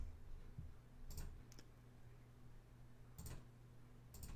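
Mouse clicks in the GDevelop game editor, a few sharp isolated taps spread apart over a quiet background hum.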